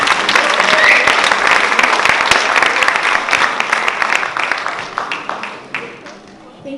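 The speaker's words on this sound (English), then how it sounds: "Can we get another round of applause for my dad?" Audience applause at an Indian classical dance debut recital, a dense, loud burst of clapping that holds steady before thinning and fading out over several seconds.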